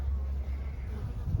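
Honeybees hum in a dense, continuous buzz at a hive entrance and landing board in early spring, with many workers flying in and out close by.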